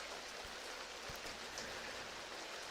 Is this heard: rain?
yes